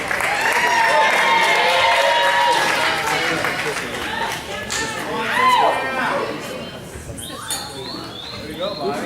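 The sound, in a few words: wedding guests applauding and cheering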